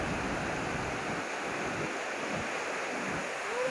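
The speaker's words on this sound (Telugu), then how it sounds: "ఇక్కడ మీరు చూస్తున్నది చెనాబ్ రివర్ అనమాట. అంటే స్నో మొత్తం కరిగి ఇట్లా రివర్ లాగా ఫ్లో అవుతుందండి." The Chenab River, swollen with melted snow in Kashmir, gives a constant loud rushing roar of fast-flowing water with some wind buffeting. The sound holds steady throughout and no one speaks.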